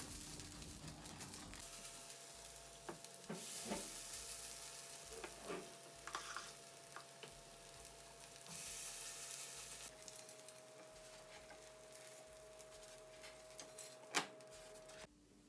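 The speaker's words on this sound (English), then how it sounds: "Okay, and then just finish frying them." Zucchini cakes sizzle steadily in a hot pan, a constant crackling hiss with occasional sharp ticks and clinks, no voices over it.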